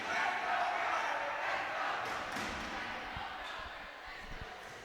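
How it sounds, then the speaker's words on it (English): A crowd roars at an under-16 schools basketball final, a broad, loud swell of noise that eases slightly over the few seconds, with thuds from play underneath. "the crowd are getting into it more and more here"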